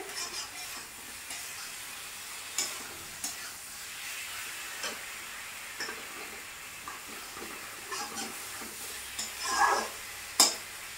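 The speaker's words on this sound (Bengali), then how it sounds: "বেগুনটাকে এভাবে একটু মেলে দিতে হবে যাতে বেগুন থেকে জলটা ছেড়ে মশলাটা ভালো করে কষিয়ে যায়" Brinjal fries with spices in a pan, a soft continuous sizzle broken by intermittent scrapes and taps of a spatula stirring, with a louder hiss and clatter toward the end.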